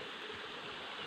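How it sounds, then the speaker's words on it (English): A river stream flows in a steady broadband rush of water, even and unbroken, with no voices. "There's also another part of the river coming down here."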